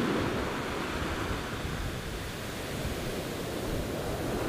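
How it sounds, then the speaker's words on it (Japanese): Ocean waves surge up a beach on an autumn day, a steady broad wash of surf filling the whole clip, close and continuous with no voices. "波が来た"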